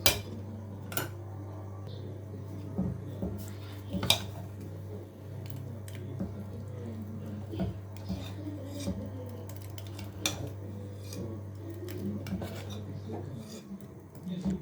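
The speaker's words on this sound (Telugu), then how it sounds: "ఇప్పుడైతే మనము దోశ పిండి తీసుకొని అందులో ఈ ఫ్రై చేసిన ఐటెం అయితే మిక్స్ చేసేయాలి" A spoon scrapes and rubs as a fried mixture is stirred into dosa batter in a bowl, giving repeated close clinks and wet squishing over a steady low hum.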